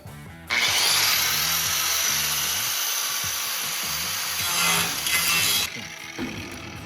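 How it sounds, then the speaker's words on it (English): An angle grinder cuts into rusty steel on the A pillar of a Model A Ford hot rod, a loud close whine that kicks in abruptly, holds with rising and falling pitch, then cuts off near the end. "All right, it's time to grind."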